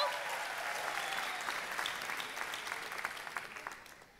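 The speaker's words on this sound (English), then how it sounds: "Round of applause, people!" Audience applause fills a hall at the TEDxAmsterdam 2018 official opening, a steady dense clapping from a large crowd that slowly thins toward the end.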